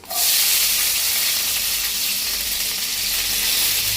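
Finely chopped onions hit hot oil with fennel and cumin, setting off a sudden loud hissing sizzle that holds steady and close for several seconds without talk.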